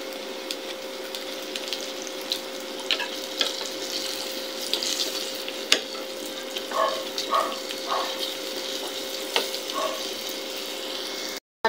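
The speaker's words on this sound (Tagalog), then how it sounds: "Ready to fry na to." Banana lumpia sizzle steadily in hot frying oil, with a constant crackling hiss and occasional sharper pops close by, no voices over it.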